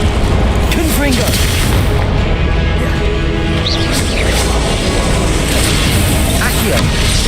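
Confringo fire-spell explosions in Hogwarts Legacy combat boom repeatedly through a dense, loud, continuous wall of game battle noise.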